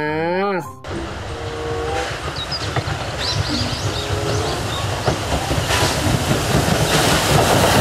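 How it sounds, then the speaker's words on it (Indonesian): A Thomas the Tank Engine toy train plays its sound effect: a rising whistle-like tone, then a steady rolling clatter with faint chirps, growing louder over several seconds. "Kereta Thomas."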